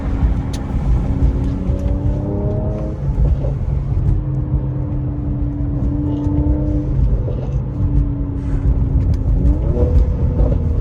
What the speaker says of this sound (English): show you guys what it sounds like when the windows are closed.